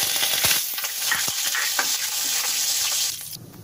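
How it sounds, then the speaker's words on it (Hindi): Cumin seeds and curry leaves sizzle loudly in hot ghee, a dense continuous crackling with sharp popping bursts and stirring, close by, before the sound cuts off abruptly. "घी गर्म हो गया है अब हम इसमें ये जीरा ऐड करेंगे"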